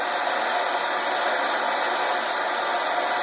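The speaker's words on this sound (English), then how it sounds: "We all love the hairdryer." A hair dryer runs continuously close by, a steady broad whooshing hiss with a faint motor whine and no breaks.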